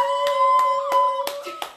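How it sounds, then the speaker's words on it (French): A few sharp, evenly spaced hand claps ring out over a steady sustained tone as a guest is welcomed onto a talk-show couch set, sounding close and moderately loud. "sous vos applaudissements, Princesse Nifa."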